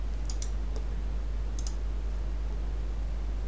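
A few sharp computer mouse clicks sound while points and segments are being placed in geometry software, brief taps spaced over a steady low background hum with no talking.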